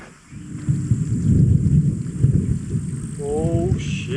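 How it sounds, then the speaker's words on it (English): Thunder from a storm in the French Alps rumbles loud and sustained for several seconds over a backpacking camp area, with a short voice-like tone near the end. "Did you hear that thunder? I think there's a storm brewing."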